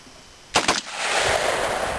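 Saiga 12 gauge shotgun fired on full auto, a tight burst of about three loud close blasts followed by a lingering rumble of echo.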